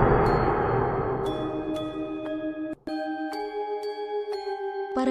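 A gong is struck to open a king's contest. Several metallic strikes ring out in turn, each leaving bright, sustained tones that overlap and linger as a noisy background fades, with no voices.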